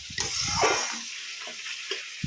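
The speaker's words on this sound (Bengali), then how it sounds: "ভালো করে মশলাটাকে কষাবে, তাহলেই মাছের ঝোলে এমনি টেস্ট চলে আসবে।" Spice paste for fish curry sautéing in a pan, a soft close sizzle with scattered scraping and stirring clinks, fairly quiet and without talk.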